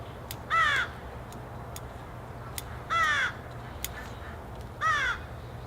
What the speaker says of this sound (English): I have a lot of crows in this area.